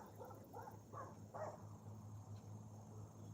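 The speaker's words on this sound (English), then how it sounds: "Y'all can hear Bentley in the background booming like a cannon, and then there's like another small dog." Dogs barking outdoors by a pond, a quick series of four distant, muffled barks early on, a big dog's deep booming voice and a smaller dog, with a steady low hum beneath.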